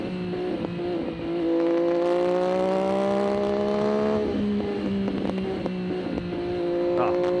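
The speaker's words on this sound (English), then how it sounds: "listen to that triple sound. It is glorious. And those are those little pops I was telling you about" A 2023 MV Agusta F3RR triple-cylinder motorcycle revs hard, its pitch climbing then dropping off, with small exhaust pops crackling as the engine settles; loud and close throughout.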